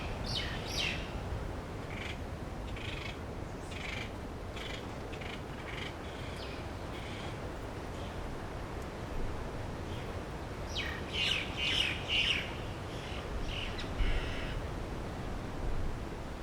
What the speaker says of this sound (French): Aride abrite la plus grande concentration d'oiseaux de mer de l'archipel.